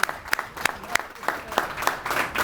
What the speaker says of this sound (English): everybody give Shayna a big round of applause